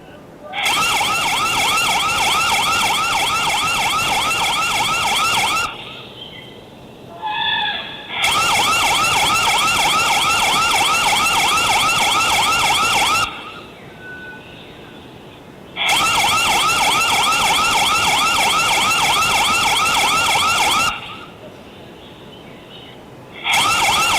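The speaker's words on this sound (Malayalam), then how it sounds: "ഫെൻസിംഗിന്റെ സൈറൻ കേട്ട് ഓടുന്ന കാട്ടാനയുടെ ദൃശ്യം വനംവകുപ്പ് പുറത്തുവിട്ടു" Siren from an AI-based elephant fence in Wayanad that frightens off a wild elephant: loud, wailing electronic bursts of about five seconds each, repeating with short quiet gaps between them.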